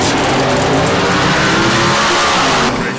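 Classic car and hot rod engines at a car cruise rev hard and roar continuously, a loud, close, unbroken burst of engine noise.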